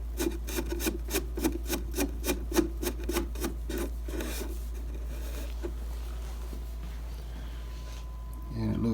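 Screws are driven into the chassis of a 1935 Airline radio with a screwdriver, making a rapid rhythmic rasping run of about a dozen turns. Quieter handling sounds follow over a steady low hum.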